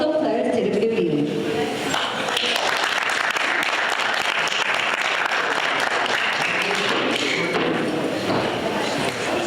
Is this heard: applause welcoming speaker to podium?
yes